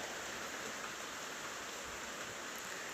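Heavy downpour with wind pours in a continuous, even hiss of rain striking surfaces, loud and close, unbroken for the whole stretch with no talking.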